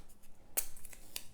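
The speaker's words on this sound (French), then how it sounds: "Hop, j'attrape un petit bout de scotch" A small piece of adhesive tape being torn off while a stencil is set in place, heard as one sharp close rip followed by a second shorter one, with no talking.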